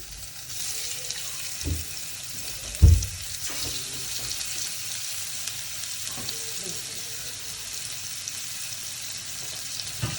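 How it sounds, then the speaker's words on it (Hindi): Chicken pieces frying in oil make a steady, fairly loud sizzle throughout, with a thump and clatter early on as the pieces go into the pan. "थोड़ा सा हमने इसके अंदर ऑयल डाल लिया। अभी जो अपने पीस हैं इसके अंदर डालते हैं, चिकन के पीस।"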